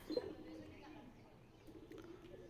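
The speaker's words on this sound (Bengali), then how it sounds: "আর এই যে কবুতরগুলো" A pigeon gives a soft, brief coo near the start, with faint bird sounds and a murmuring voice in the background.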